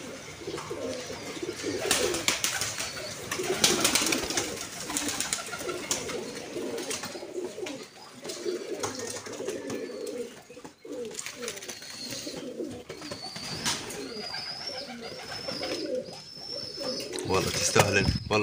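Pigeons coo repeatedly at close range, their soft, throaty calls continuing throughout while someone talks over them.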